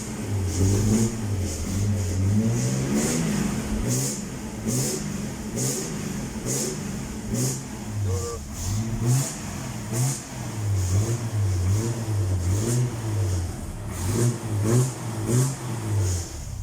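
A 1991 FJ75 Land Cruiser fitted with a Chevrolet 292 engine revs repeatedly in steady, loud pulses that rise and fall, sounding close by with no talking over it.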